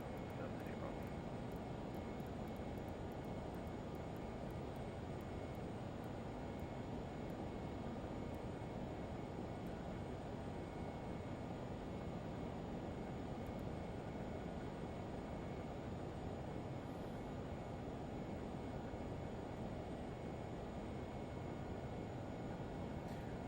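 A Lear 35 jet in a flight simulator hums with a steady, even engine and airflow rumble throughout, constant and moderately loud with no clear changes.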